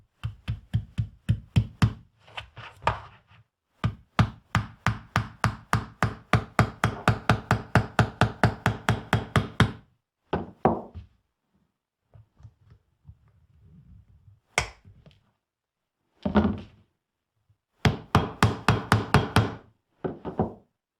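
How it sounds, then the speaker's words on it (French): Tapping of small pins driven by hammer into a stacked marquetry veneer packet, in quick rhythmic bursts of close, sharp knocks separated by short pauses, with a few isolated single blows. "nous allons placer ici 8 à 10 pointes autour et entre les différentes pièces à découper"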